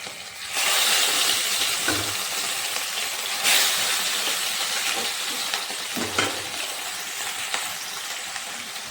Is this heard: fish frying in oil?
yes